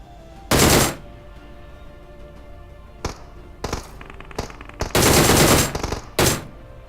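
DP-28 light machine gun fire in PUBG Mobile, loud sharp bursts of automatic shots separated by quieter gaps, several short volleys in an uneven rhythm, with no talk.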